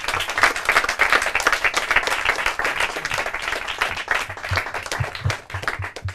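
Loud, sustained applause from an audience at the final of a Portuguese-language quiz competition, dense clapping filling the whole stretch with no speech over it.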